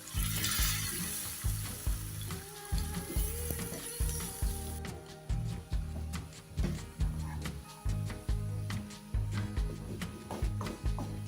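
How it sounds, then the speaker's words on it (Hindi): Tomatoes and haleem masala fry in a pan over already-cooked garlic and onion, a steady close sizzle broken by repeated stirring scrapes and taps, with no talk. "अब हम इसमें डाल देंगे अपने टमाटर और हलीम मसाला। इसको अच्छे तरीके से हम भूनेंगे।"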